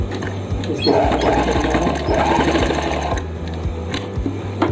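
Sewing machine stitching a fabric strip onto a zip for palazzo pants, a loud close rhythmic needle hum running steadily with slight speed changes and no talk.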